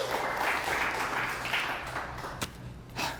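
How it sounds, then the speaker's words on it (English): A studio audience claps for Steve Dennis, a short burst of moderately quiet, steady applause with a few sharper individual claps near the end. "So round of applause for Steve Dennis."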